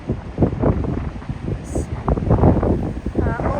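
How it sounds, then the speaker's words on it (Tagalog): Strong wind buffets the microphone on a rocky shore at Kita Nagano Coast, a steady roar and rumble with gusts running throughout, while people talk over it. "Lakas ang hangin."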